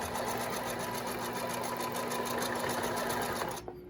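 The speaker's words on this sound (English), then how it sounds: "Back stitch a little bit, take it out, clip your threads" Sewing machine back stitching a fabric apron, a close, steady whirring hum with fast needle ticking that stops abruptly near the end.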